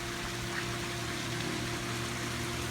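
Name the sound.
collected rainwater running from rain barrel spigot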